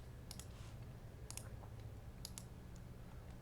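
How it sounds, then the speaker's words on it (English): A solo player shuffles decks of Lord of the Rings living card game cards, with three short bursts of crisp riffling clicks over a steady low background hum. "I'll go ahead and shuffle the decks."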